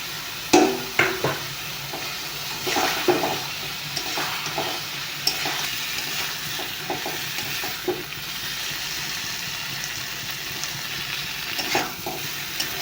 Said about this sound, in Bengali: এখন আমি ফুলকপি আলুগুলো দিয়ে দিব